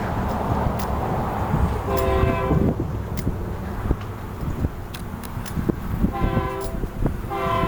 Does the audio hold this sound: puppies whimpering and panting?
no